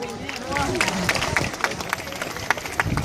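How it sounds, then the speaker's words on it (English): Applause and clapping from a festival crowd at a cultural event, scattered claps over steady crowd hubbub with a voice speaking over it. "Give her a round of applause!"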